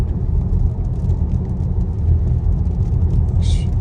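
Heavy rain heard from inside a 2026 Tesla Model Y Premium driving in Opelika, Alabama, a steady low rumbling wash of road and rain noise, fairly loud and continuous with no talk.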